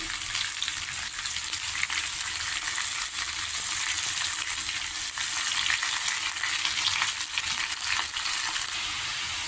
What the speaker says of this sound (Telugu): ఇప్పుడు దీంట్లో చిన్నగా కట్ చేసిన కొన్నగంటి కూర కొద్దిగా ఫ్రై చేసుకోవాలి దీన్ని